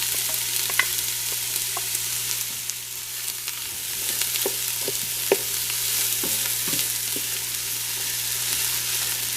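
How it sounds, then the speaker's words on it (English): Steady broadband sizzle of onions frying in hot oil, with occasional sharp pops and crackles scattered throughout, close and continuous. "the oil is nice and hot, and now I've chopped those two onions"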